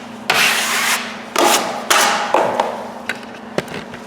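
Drywall knife spreading joint compound over a scratch on a drywall surface: three firm scraping strokes, then a few lighter short scrapes and taps, close and clear.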